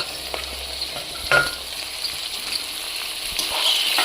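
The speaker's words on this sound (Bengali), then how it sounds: "এগুলো ভালো করে নাড়ব" Raw tomatoes, chopped chilies and ginger-garlic paste stir-fry with small fish in a pan, a steady close sizzle broken by occasional scraping stirs.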